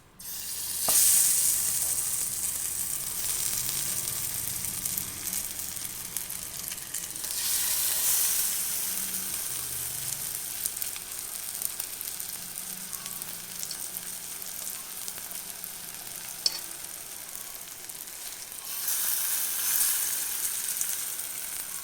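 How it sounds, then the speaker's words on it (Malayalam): Plantain slices fry in hot coconut oil, giving a continuous crackling sizzle that swells and eases in waves, with a sharp pop here and there and no talk. "ഇപ്പോൾ വെളിച്ചെണ്ണ ചൂടായിട്ടുണ്ട് നമുക്ക് നമ്മൾ ഇത് മുക്ക് വെച്ചിരിക്കണം നേന്ത്രക്കായ എടുത്തിട്ട് ഇതിലേക്ക് ഇട്ടെടുക്കാം"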